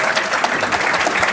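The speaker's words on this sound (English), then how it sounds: "Let's give a round of applause for Nick" Audience applause at a youth workshop on the San Mateo General Plan 2040, honoring a student speaker, a dense steady patter of many hands clapping at once, fairly loud and close, with no voices over it.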